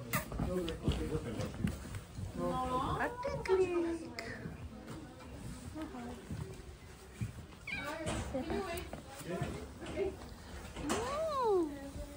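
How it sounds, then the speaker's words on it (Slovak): A wild Bengal-type cat at a family zoo park in Liptovský Mikuláš meows repeatedly with rising and falling calls, heard amid children's voices and people chatting nearby. "Formu bengalskej mačky, ale divej."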